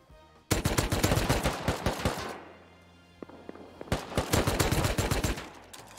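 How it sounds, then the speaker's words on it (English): An automated turret in the video game Rust fires rapid, sharp bursts of shots, two long volleys separated by a quieter gap with a few isolated impacts, loud and fairly close. "He's getting shot by turret."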